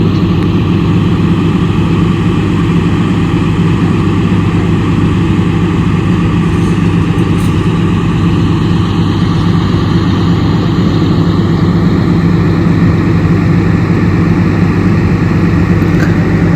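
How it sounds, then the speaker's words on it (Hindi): Heavy trucks hauling cement at the Manihari–Sahibganj Ganga bridge construction site, a steady loud low engine rumble droning without a break, near and constant. "यहाँ पे किस तरह से सीमेंट को बड़ी गाड़ियों से लाया जाता है।"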